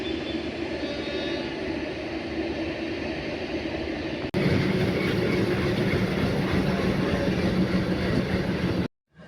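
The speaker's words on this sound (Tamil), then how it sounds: "ஸோ இதுதான் நம்ம ட்ரெயின், எக்மோர் டு தஞ்சாவூர்." An Egmore to Thanjavur train stands at a station platform, giving off a loud, steady rumbling engine drone with no one speaking. It jumps abruptly louder partway through and then cuts off.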